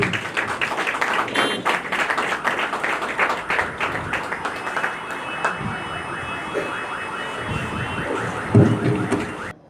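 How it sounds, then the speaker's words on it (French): Guests at a civil wedding ceremony in a town hall room applaud the registrar with dense, lively clapping that thins out partway through. A few louder thumps and murmurs follow as the room settles. "On applaudit pour l'officier d'état civil."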